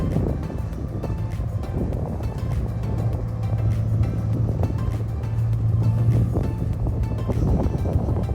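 A 2022 Toyota GR86 fitted with JDL unequal length headers idles with a low, steady rumble from the aftermarket exhaust, recorded outdoors near a road with some wind noise.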